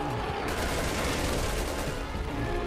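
Sustained, dense gunfire from a Resident Evil 6 co-op session, a loud continuous barrage of rapid shots filling the whole stretch without a break.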